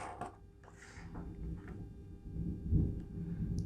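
Deep, low rumble of distant thunder rolling beneath a quiet indoor scene, swelling louder toward the middle and then settling back into a steady murmur, with faint handling noises on top.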